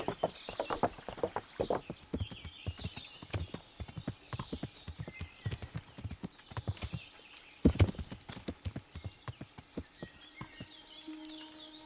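Horse hooves in the video game Kingdom Come: Deliverance clip-clop in a steady walking rhythm, fairly close and crisp, with a few louder thuds and quiet ambient sounds.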